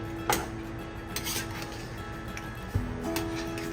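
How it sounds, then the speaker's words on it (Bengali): Potatoes tipped into a cooking pot and stirred, a low background rumble with a few metallic clinks and scrapes of a utensil against the pot, faint and without speech. "তারপর এখন আর চাপা দেবো না আলুগুলো দিয়ে দিলাম এর মধ্যে"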